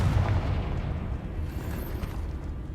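A Confringo blasting spell explodes in Hogwarts Legacy with a deep, rumbling boom that decays over a couple of seconds.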